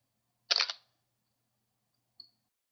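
A single-lens reflex camera with a 17 to 85 mm zoom lens set at 85 mm fires its shutter once, a crisp close mechanical clack, followed by a faint short click moments later in an otherwise silent room.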